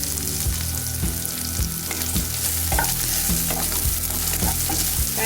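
Finely cut carrots fry in a pan while a utensil stirs them in steady repeated scrapes over a continuous loud sizzle, close up with no talking.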